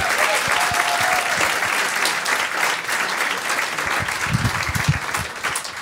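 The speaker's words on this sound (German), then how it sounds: "macht nochmal einen riesen Applaus für die Moderatoren" Loud, sustained applause from a comedy-show audience fills the hall for the hosts at a stand-up talent contest, steady dense clapping with scattered cheers throughout and no talk over it.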